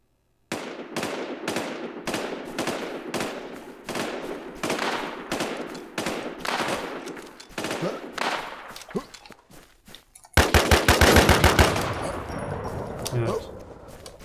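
Sniper rifle and gunfire in the video game Infestation World: a long run of sharp, evenly spaced shots echoing out, then a dense rapid burst of fire near the end.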